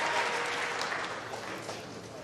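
A crowd at a Mosconi Cup nine-ball pool match applauds steadily, a dense sustained wash of clapping that fades slightly toward the end.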